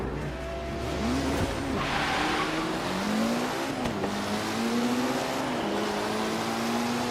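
A race car accelerates hard with rising, revving engine tones and shifting gears, loud and continuous, with a faint tire squeal.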